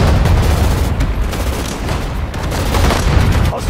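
Machine gun and artillery fire from a World War II battle in Sudden Strike 4, a loud, continuous barrage of rapid shots and heavy booms with no pause.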